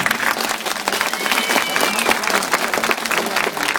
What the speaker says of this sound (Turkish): bir alkış istiyorum sizlerden